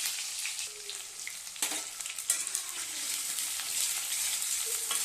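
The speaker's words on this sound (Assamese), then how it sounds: "ইয়াৰ পাছত মই পিঁয়াজখিনি দি লৈছোঁ।" Onions sizzle and fry in a pan of hot oil with bay leaf and five-spice seeds, a steady loud crackle with occasional stirring scrapes, no voices.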